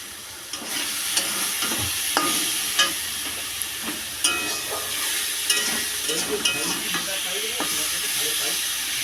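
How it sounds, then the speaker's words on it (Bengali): Fish curry masala with turmeric is being stirred in a frying pan, with a spoon scraping and tapping through a steady sizzle of hot oil. The taps come irregularly and sound close. "ভালো করে নেড়ে চেড়ে নেবো"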